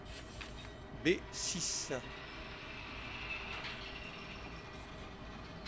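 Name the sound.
train rolling forward in the Derail Valley video game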